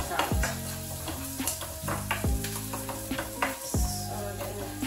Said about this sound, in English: onions and garlic cooking away nicely